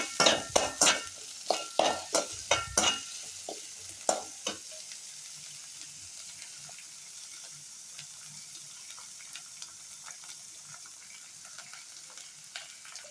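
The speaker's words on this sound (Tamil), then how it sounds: "அது கொஞ்சம் வதங்கினோன்னே கத்திரிக்காய் சேர்த்து எல்லா கத்திரிக்காயும் சேர்த்துக்கோங்க" Brinjal pieces added to a hot pan and stirred for Tamil-style eggplant chutney, a burst of loud spoon scrapes and clatter followed by a quieter, steady sizzle with occasional stirring ticks.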